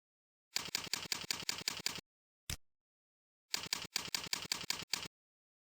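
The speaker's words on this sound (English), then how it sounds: "Choose a password and type it in these two boxes." Keys on a computer keyboard tapped in two quick runs of about seven sharp, evenly spaced clicks, separated by a single click and a pause, close and crisp against silence.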